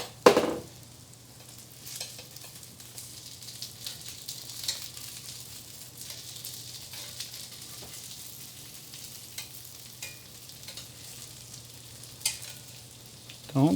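Gluten-free spinach ravioli fry quietly in a pan with a low, steady sizzle, broken by a few scraping stirs and soft clatters as the pieces are flipped, ending in a louder knock.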